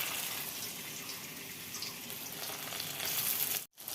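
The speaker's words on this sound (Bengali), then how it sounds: "মাছের তেলে বড়া ভাজা করছি।" Fritters fry in fish oil in a wok with a loud, steady, close sizzle that runs continuously, dropping out for a split second near the end.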